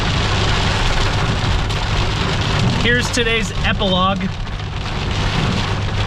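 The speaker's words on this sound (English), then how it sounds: "We're still here, but it's pouring rain." Heavy rain pours down outdoors in a steady, dense hiss that fills the whole stretch, with someone speaking briefly over it.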